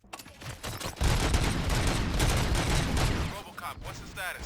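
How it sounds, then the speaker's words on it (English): Dense bursts of gunfire erupt in RoboCop: Rogue City, a loud sustained fusillade with machine-gun rattle and booms lasting several seconds before thinning out, with a voice heard briefly. "Gunshots?"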